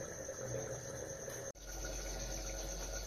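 A little water pours steadily into a pot of Bengali-style chicken kosha, a continuous faint trickle with a brief break midway.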